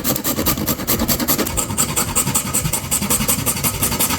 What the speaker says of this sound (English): Now we're gonna grate us some nutmeg.